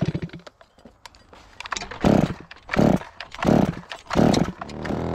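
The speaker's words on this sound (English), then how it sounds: "I am gonna need to file up my chain because I'm stumping these pretty low." A chainsaw cuts tree stumps low to the dirt on a land-clearing site, heard as a quiet idle followed by four loud, close bursts of revving and cutting separated by short dips.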